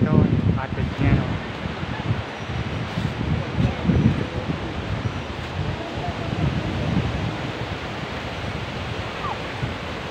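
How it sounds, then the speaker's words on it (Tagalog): Strong wind gusts at Matabungkay Beach, a steady broadband roar with rumbling buffets against the microphone, while people talk faintly underneath. "Malakas ang hangin dito."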